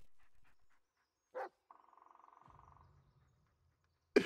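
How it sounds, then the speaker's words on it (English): A dog in the Blair Witch video game gives a short bark, then a quick rhythmic run of panting breaths, with another sharp bark at the end against a mostly quiet background. "Listen to his barking and watch his body language."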